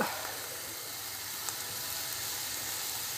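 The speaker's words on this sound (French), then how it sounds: "Donc mes oignons, je vais les laisser encore un peu dorés." Onions gently frying in oil in a pan as lasagne sauce is prepared, giving a steady, even sizzle and hiss throughout with no voices.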